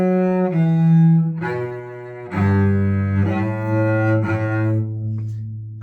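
A cello plays a short, slow melody of several sustained bowed notes, close and resonant, alone with no talking.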